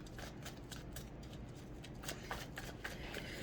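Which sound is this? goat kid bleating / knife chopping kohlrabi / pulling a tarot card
pulling a tarot card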